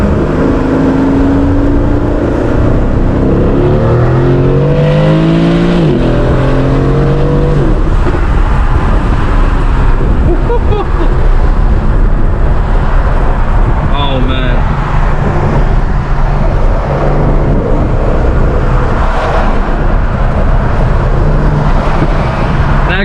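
A 2018 Aston Martin DB11 V8 accelerates from inside the cabin, its engine rising through rev sweeps early on and then settling into a steady loud drone with road noise, while someone talks over it.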